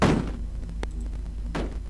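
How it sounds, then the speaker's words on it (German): A door opens in the video game Cannon Fodder with a couple of short thunks over steady game background noise. "Die Tür ging gerade auf"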